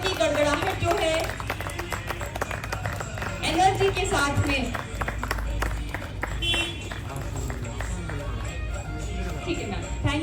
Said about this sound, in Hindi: तालियों की गड़गड़ाहट जो है